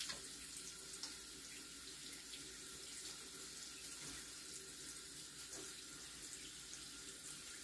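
Water runs steadily from a tap into a basin while long hair is being washed, a quiet continuous splashing stream with small fluctuations and no talk.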